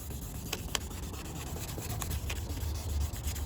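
Repeated gritty rubbing strokes of sandpaper on a plastic car headlight, close and fairly steady, with small scratchy bursts through the whole stretch and no talking.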